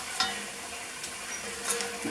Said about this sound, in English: Get a good old stir.